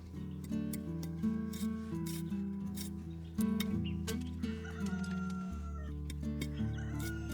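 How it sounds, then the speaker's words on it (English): Rooster crowing in a peaceful outdoor setting where bamboo is being split by hand to make a scrub brush, the call rising over a steady bed of tonal background sound and light rhythmic tapping, with no talk. "The rooster crowing, the wind blowing, the scenery is so peaceful."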